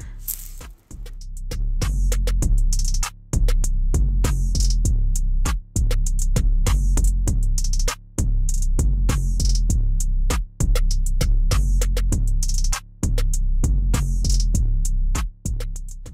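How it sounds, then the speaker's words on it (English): A hair dryer blows steadily on a wig, a loud droning hum with a few brief dropouts as it is switched or moved, close to the microphone with no talking. "I'm making sure I'm blow drying it thoroughly and making sure all the little kinks is out."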